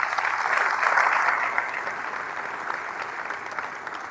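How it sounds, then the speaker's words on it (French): Audience applauding at a rail industry summit in El Jadida, a dense, steady clapping from a seated crowd that swells briefly then tapers slightly, heard alone without talk. "Je voudrais que vous les applaudissiez."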